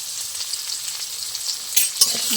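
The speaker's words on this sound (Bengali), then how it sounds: "ভালো করে ভেজে নেব একটু লাল লাল করে ভেজে নেব" Potato and taro pieces, seasoned with salt and a little turmeric, fry in hot oil with a steady close hiss, broken by a couple of sharp spits and crackles near the end.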